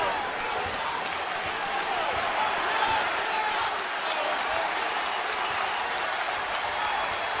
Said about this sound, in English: a sellout crowd here inside the Mullins Center trying to get UMass back in it